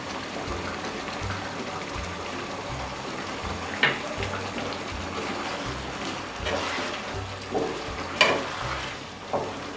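Fried paneer pieces and eggplant cooking in a pan with garam masala, giving a steady close sizzle and frying hiss with a few sharper stirring scrapes and clinks scattered through.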